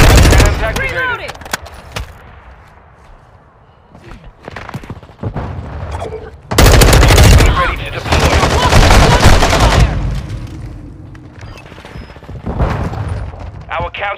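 Gunfire in the video game Call of Duty Modern Warfare 2 comes as loud, close bursts of automatic fire and booms separated by quieter gaps, with voices calling out amid the shooting.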